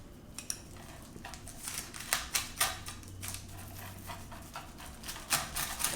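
Knife or cutter slicing through a pizza topped with salami and jalapeno, giving a run of sharp crunchy cuts and taps near and fairly loud, with no talk.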